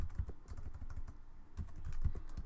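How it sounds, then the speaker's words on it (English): Steady typing on a computer keyboard while entering commands during a Windows setup of UnrealIRCd 3.2, a quick continuous patter of soft close key clicks with no voice. "So you type in slash nick, then your username."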